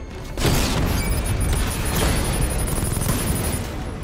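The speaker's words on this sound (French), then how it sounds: "Explosion IEM prête! Tirez!" An EMP blast and gunfire in the Batman Arkham Knight video game burst out as one loud, sustained wall of booming noise with crackling bursts, holding at full strength before tapering slightly.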